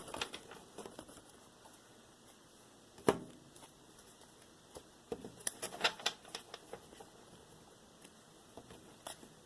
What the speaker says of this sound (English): I gotta shuffle it all over again.